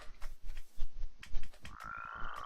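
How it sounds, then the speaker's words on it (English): Toads in a Minecraft modpack croak in quick, uneven bursts, several short throaty calls close together followed by a longer rising croak, close and clear with no talk. "Toads."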